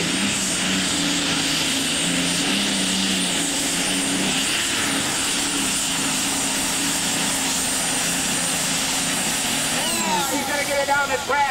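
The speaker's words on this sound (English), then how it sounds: "Now Jerry will slowly start to build the RPMs" A super stock pulling tractor at a 2000 NTPA tractor pull in Imlay City, Michigan, builds RPMs with its slipper clutches engaging. It makes a loud, continuous, dense engine roar that climbs in pitch near the end, with a commentator talking over it.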